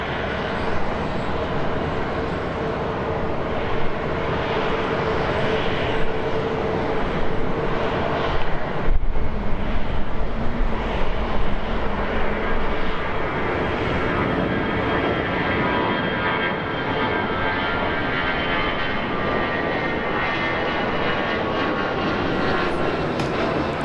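An American Airlines airliner takes off from runway 7 left, its engines giving a loud, steady roar that holds throughout, with no voices.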